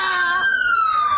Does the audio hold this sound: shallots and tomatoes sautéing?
no